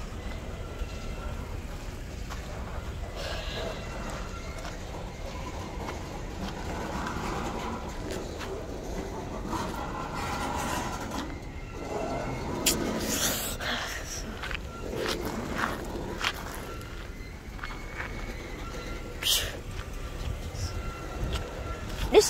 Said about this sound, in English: It's a long train. We still got a lot more to go of this train.